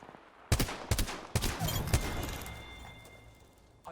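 Gunfire in the Apex Legends video game: several sharp, loud shots and short bursts crack out over the first two seconds, then fade into a lingering echoing tail.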